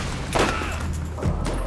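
Grenade explosions in the Borderlands shooter game: two muffled booms about a second apart over a steady low rumble of game ambience, with no speech.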